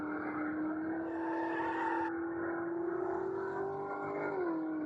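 Engine sound effect for a fast car in a Godot racing game: a steady synthetic motor drone with a droning pitch that rises slightly, then drops near the end, heard alone and fairly quiet.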